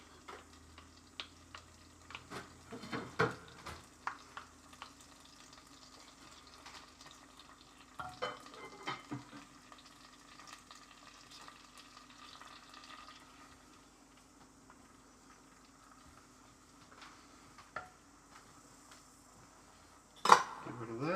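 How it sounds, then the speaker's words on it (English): Butter, brown sugar and honey are stirred in a pan for homemade muesli bars, with sparse clinks and scrapes of a utensil against the pan amid quiet stretches, a few louder knocks near the end. "get the butter melted, get the brown sugar dissolved"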